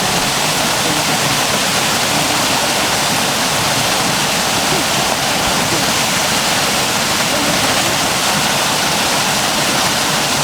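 Underwater roar of a main waterfall heard from its base beneath the surface, a dense, constant rushing wash that stays loud and unbroken for ten seconds.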